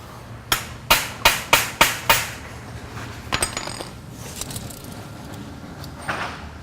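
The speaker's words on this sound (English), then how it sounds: "Grab my hammer, tap it a little bit." A hammer taps a metal plate into place on a DIY security cage for tools, striking six times in a quick, even sequence. Softer taps and knocks follow close by.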